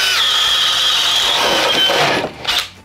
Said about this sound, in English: Bosch Daredevil bit going into a 2x4